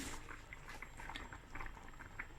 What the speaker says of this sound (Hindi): 2 से 3 उबाल आए हैं तो मैंने इसका जो ढक्कन है वो उतार दिया है।